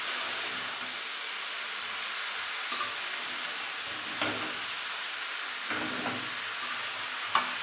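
Prawns fry in a pan with a soft, steady sizzling hiss, broken by a few louder scrapes and clatters as they are moved around.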